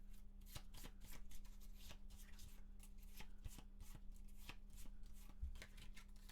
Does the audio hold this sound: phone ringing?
no